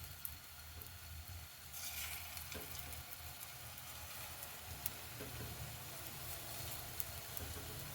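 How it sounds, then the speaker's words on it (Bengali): Hard biscuits fry in a little hot oil for a sweet pitha, giving a soft, steady sizzle that continues throughout, with faint scattered crackles and a low background hum. "একটু রং আসা পর্যন্তই ভাজবো, বেশি সময় লাগবে না"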